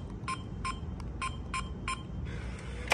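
A smart door lock A01 keypad emits a run of six short, evenly spaced electronic beeps as a password is entered, followed by a longer confirmation tone, close and clear.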